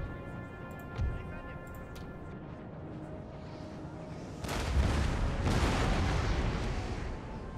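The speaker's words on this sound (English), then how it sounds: "let's go ahead and do canister shot" Canister shot artillery fire in a Napoleon: Total War battle booms out in a dense, rumbling volley after a lighter stretch of scattered battle noise.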